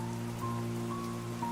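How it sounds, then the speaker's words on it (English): Rain falls in a steady patter under a low humming drone and faint tonal whines, continuous and even throughout, with no one speaking. "The rain is falling on the keys, but I don't care."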